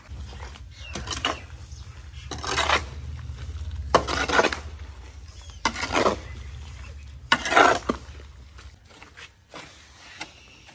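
Mud and straw husk are mixed together for a roof, a series of rhythmic, fairly loud wet scraping and churning strokes repeating every second or two over a low background hum.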